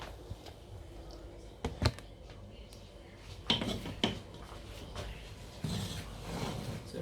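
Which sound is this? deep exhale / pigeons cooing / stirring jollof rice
stirring jollof rice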